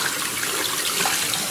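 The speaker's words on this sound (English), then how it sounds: "You can also rinse the brush out right under the water" Water runs steadily from a tap as the head of an electric spin scrubber brush is rinsed beneath it, a continuous close splashing hiss with no talk.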